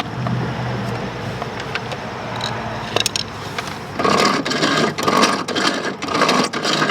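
A Toro Timemaster mower wheel is shaken by hand to check its transmission bearings, producing close rattling and scraping knocks that grow louder and busier in the second half, with no voices.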